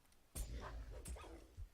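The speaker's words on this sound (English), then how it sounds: "Ah! Hound!" A hound barks twice in The Champion video game, short sharp yips up close and moderately loud, each with a brief whimpering tail, the second coming about two-thirds of a second after the first.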